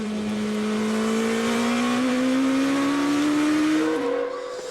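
GP2 race cars with V8 engines and an 8-into-1 exhaust scream past at the 2006 San Marino round, a loud sustained high-revving wail that rises in pitch and then drops away as they pass.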